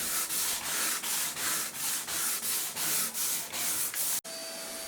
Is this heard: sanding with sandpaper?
yes